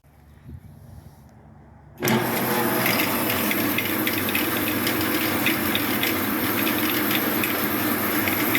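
A repaired 14-inch bandsaw is switched on for a test. After a quiet moment the motor kicks in abruptly, then runs loud and steady with a constant whirring hum until the end, with no voices.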